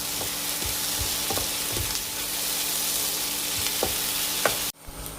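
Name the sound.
onions sautéing in a pan for egg roast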